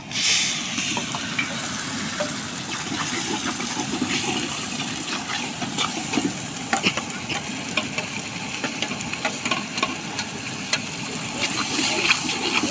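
Mustard seeds, chilli and onion fry in a pan with a steady, close sizzle and hiss, broken by scraping stirs, while a voice talks faintly over it.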